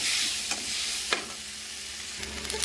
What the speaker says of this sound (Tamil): காலிஃப்ளவர் காய் போட்டு அதையும் நல்லா வதக்கணும்